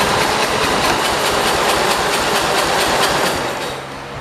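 A Cub Cadet 482 garden tractor with a carburetor needing cleaning or adjustment runs steadily with a loud, rough, chugging drone, close by, fading slightly at the end.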